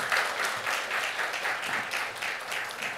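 A church congregation applauds the flag worship dance team during a healing service, steady moderate clapping from a crowd filling the room, with no speech over it.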